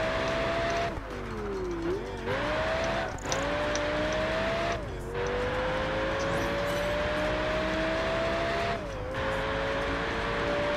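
A BMW racing in Project Gotham Racing 4 screams at high revs, its engine note climbing steadily through the gears with sharp dips at each shift, loud and close, no speech.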